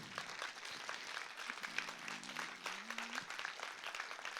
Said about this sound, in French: On peut applaudir Marcel.